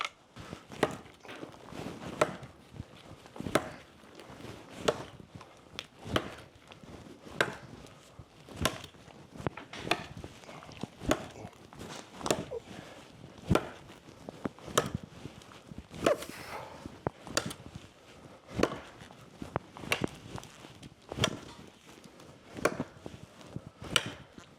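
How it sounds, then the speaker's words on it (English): Bone Breacher tomahawk chopping in a cutting test, delivering about twenty sharp, evenly spaced impacts at an axe-like rhythm, close and moderately loud, with no talking. "Chopping with this thing is like chopping with an axe."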